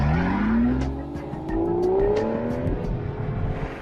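An Aston Martin V12 Vantage engine revs inside a closed garage, its big V12 climbing in pitch, dipping briefly, then rising again in a loud, sustained growl.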